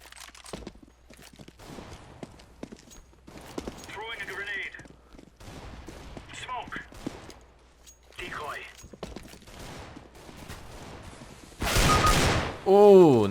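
Gunfire in the video game CS:GO comes as short bursts and scattered shots spread through the clip, with a louder burst near the end, under a voice talking.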